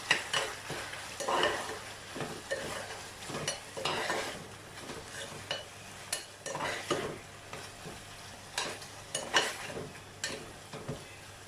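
Mutton uppu kari with pepper powder being stirred in a pan, a busy run of close scraping and clinking strokes from a spoon against metal over a faint sizzle, uneven in rhythm and fairly quiet, with no talking.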